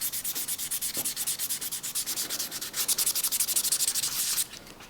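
A watch crystal with scratches being sanded by hand using 600 grit sandpaper: quick, steady back-and-forth rasping strokes that are close and crisp, running continuously before stopping abruptly near the end.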